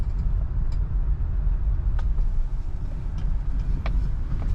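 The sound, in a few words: 1978 Lincoln Continental Mk V driving on highway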